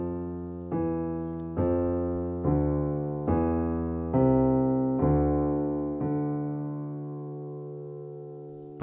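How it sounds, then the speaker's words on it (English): Opening melody of the Dies Irae Gregorian chant played as a slow line of sustained, resonant notes, about eight steady steps each ringing into the next, the last note fading out, with no voices. "the opening melody for the Dies Irae, Gregorian chant that's used in the Catholic church mass for the dead"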